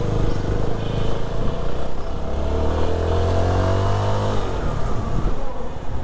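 A CFMoto SR 250 motorcycle rides over a series of speed breakers, its engine droning steadily and loud throughout, the pitch shifting as it slows and picks up again.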